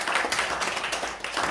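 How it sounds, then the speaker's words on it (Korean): Congregation applause during a Korean church Sunday service, a dense, steady patter of many hands clapping close by, continuing evenly throughout. "우리 박수 한번 드리겠습니다."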